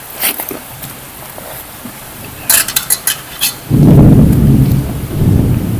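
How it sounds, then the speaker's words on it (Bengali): During a heavy downpour, thunder gives a few sharp cracks, then a deep, loud rumbling roll. Rain hisses steadily underneath the whole time. "আর প্রচন্ড বৃষ্টি হচ্ছে, একদম ঝমঝমিয়ে"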